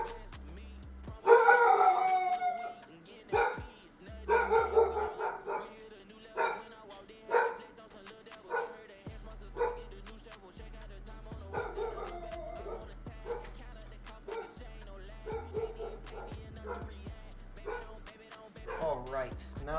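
A pet dog barks and howls indoors near a computer: repeated loud barks and drawn-out howling in irregular bursts, with quieter yips between them.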